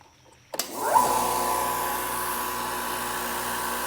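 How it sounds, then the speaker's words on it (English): An air compressor switches on with a sharp start, then settles into a steady whirring drone with a faint tonal whine that runs on evenly and alone. "You can still hear me with the compressor running in the background."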